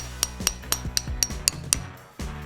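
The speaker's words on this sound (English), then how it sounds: "I'm going to try tapping this with the hammer" A hammer taps an ebike hub axle into its shaft with sharp metallic strikes, about eight evenly spaced ringing blows, then a brief pause and one final hit.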